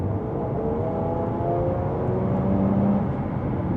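A Jaguar F-Type with its exhaust valves closed accelerates from inside the cabin, a muted, rising engine drone with steady road rumble and no talking.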